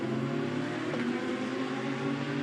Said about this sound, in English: Listen to that. That is a very ill-sounding BMW indeed.